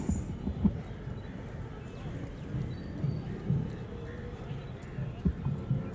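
Cavalry horses of the Nepali Army, ridden with lances at an army horse show, clip-clop in a soft, irregular patter of hooves, with faint voices and crowd murmur in the background.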